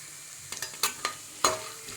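Garlic fries in hot oil in a pan, a quiet steady sizzle punctuated by a handful of sharp clinks and scrapes from stirring.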